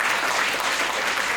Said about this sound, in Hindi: बात दिल तक पहुंची हो तो तालियां बजना चाहिए